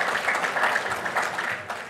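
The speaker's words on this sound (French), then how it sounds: "Voilà, on peut l'applaudir." Brief applause at a conference for a speaker who has just finished sharing his story, a short, moderately quiet patter of clapping.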